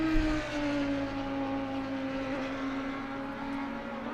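Race cars circle the Kyalami circuit in a qualifying session of a racing video game, a steady droning engine note holding throughout with no talk.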